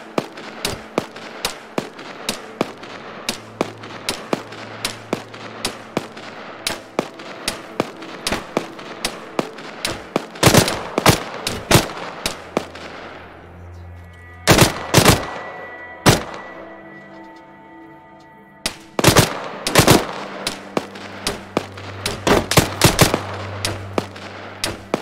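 Repeated gunfire in a zombie shooter game, sharp bursts and rapid volleys with brief gaps between them, loud and close over a low game backdrop.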